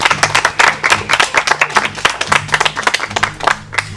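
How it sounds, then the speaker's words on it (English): A group of people claps in a brisk, uneven burst of applause lasting several seconds, close and fairly loud, with no voices over it. "I don't know why you guys are clapping"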